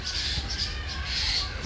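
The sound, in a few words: birds screeching as a dog attacks a fallen bird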